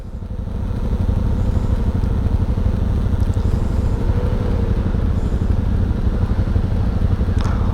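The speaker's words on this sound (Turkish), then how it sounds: "Motor geri geri şahlandı lan" A Yamaha Tenere motorcycle engine strains loudly and steadily while the bike rears back in a rocky creek bed, swelling up over the first second and then holding a rough, close drone.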